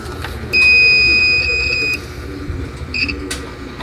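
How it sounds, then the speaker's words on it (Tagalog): A loud, steady multimeter continuity buzzer beep lasting about a second and a half, followed later by a second short beep, with faint handling noise between. "Try natin sa buzzer."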